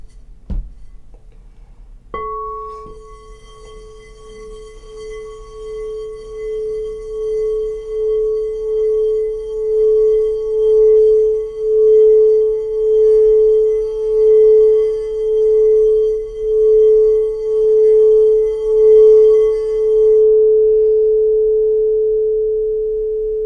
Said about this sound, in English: I want to just take a moment and just tap the crystal healing bowl and let it sing to us for just a minute,